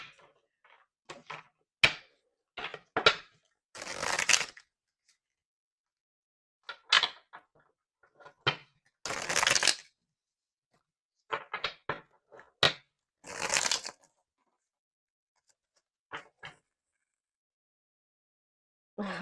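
A deck of tarot cards shuffled in repeated bursts of riffling and slapping, with short pauses between bursts; close, fairly crisp, no voice.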